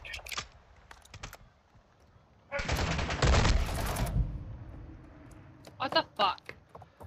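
Gunfire in Minecraft, a sudden loud burst of rapid, dense fire lasting about two seconds, followed later by a few sharper shots, mixed with the clicks of a computer keyboard.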